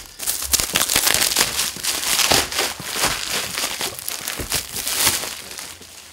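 Plastic courier packaging crinkles and tears as a delivered parcel holding a Sony video-blogger kit is unwrapped by hand, with loud, close, irregular rustling and crackling bursts throughout.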